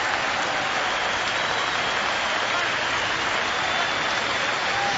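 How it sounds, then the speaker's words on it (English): A Test cricket crowd in Cape Town applauds Sachin Tendulkar, the Indian captain, with dense, sustained clapping that fills the air evenly from start to finish, no single voice standing out. "Generous round of applause for the Indian captain"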